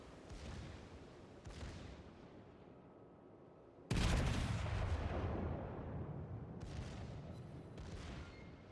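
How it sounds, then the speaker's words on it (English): Naval gunfire echoes through a World of Warships battle involving Warspite battleships: distant booming shots, then a heavy, loud broadside blast that rumbles and rolls away, followed by further fainter cannon reports. "Secondaries are also opening up fire, and probably the next broadside might decide what's happening."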